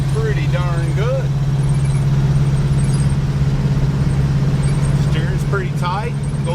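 An International Travelall drives along with a steady, droning engine and road rumble holding loud and constant throughout, while someone talks over it.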